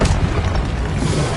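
A Stupefy spell cast in Hogwarts Legacy, a dense, loud magical burst with booming low rumble that holds steadily through the short moment, no voices heard.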